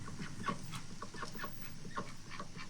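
Domestic fowl cluck and call in a repeated, uneven rhythm at a farm pen, faint and somewhat distant over a steady noisy background, with no talk.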